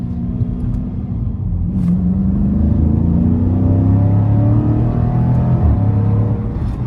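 A 2015 Dodge Challenger 6.4L Scat Pack V8 accelerates hard, heard from inside the cabin as a loud, deep rumble rising in pitch through the gears, with one brief shift dip.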